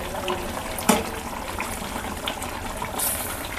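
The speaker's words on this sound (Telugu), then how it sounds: "ఈ బీరకాయ ముక్కలు ఉడకడానికి కొంచెం టైం పట్టిందండి" Ridge gourd curry bubbles and simmers in a pan, a steady close hiss of boiling with an occasional louder pop.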